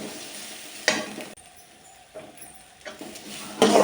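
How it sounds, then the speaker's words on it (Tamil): Garlic, curry leaves and dried chillies fry in hot oil in a home kitchen pan, giving a steady close sizzle broken by louder bursts of stirring and crackle. "எண்ணெய் ஊற்றி கருவேப்பிலை போட்டு, அதுக்கடுத்தது பூண்டு போட்டிருக்கேன், காஞ்ச மிளகாய் கிள்ளி போட்டிருக்கேன்."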